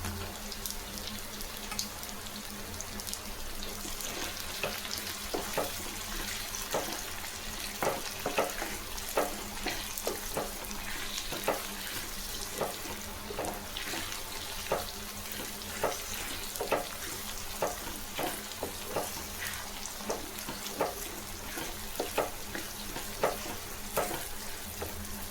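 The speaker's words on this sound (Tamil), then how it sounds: "அது கூடவே புளி போட்டு நல்லா வதக்கலாம்." Onion, tomato and tamarind sauté in a pan for fish curry, a continuous close sizzle broken by frequent rhythmic scrapes and taps of a spatula stirring throughout.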